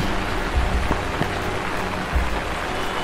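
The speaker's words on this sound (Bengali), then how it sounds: "প্রচুর বৃষ্টি দিচ্ছে" Dense, steady rain pouring down, a loud continuous wash with a few louder thumps and drips, no one speaking.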